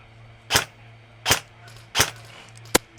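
Four sharp, close airsoft gun shots at an outdoor skirmish, evenly spaced about three-quarters of a second apart, each a crisp crack standing alone over a low background hum.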